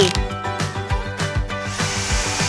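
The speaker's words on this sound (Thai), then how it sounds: "เอาสว่านเจาะข้าวโพดใส่เข้าไปได้เลย" A power drill whirs loudly with a corn cob fixed on its bit for eating, a strong buzzing drone with rapid regular pulses as the cob spins, with no voices.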